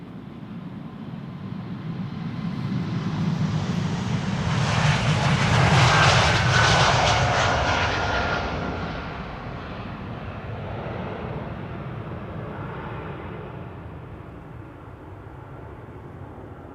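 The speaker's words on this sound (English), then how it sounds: "an E2 Embraer over here coming this way. This is KLM flight 1375 to Bucharest." A brand-new KLM Embraer E2 jet departs Amsterdam Schiphol for Bucharest, its engine roar swelling loud to a broad peak mid-pass, then easing into a lingering, fading rumble with no voices.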